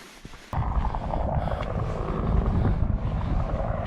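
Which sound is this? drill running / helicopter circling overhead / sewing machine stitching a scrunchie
helicopter circling overhead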